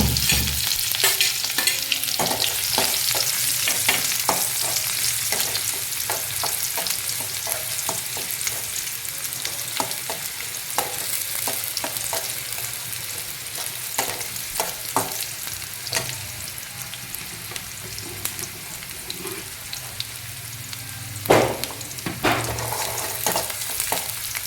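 Spices for bisibelebath temper in hot oil, giving a loud continuous close crackling sizzle with occasional stirring clatter and one sharp knock near the end, heard alone without talk.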